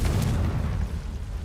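The Confringo spell in Hogwarts Legacy goes off as a single deep, booming blast at the start, followed by a rumbling low-end decay that fades over about a second.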